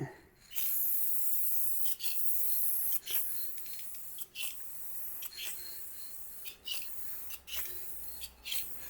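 A steady close hiss of a spray gun laying down 2K clear coat on a headlight, running continuously with brief dips and clicks as the trigger eases and resumes.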